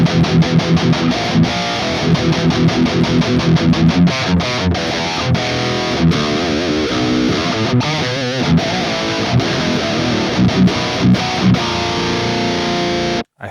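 A heavily distorted electric guitar through a Kemper high-gain profile on its modern channel chugs out tight, aggressive riffs with a thick, saturated tone, loud and close, ending abruptly.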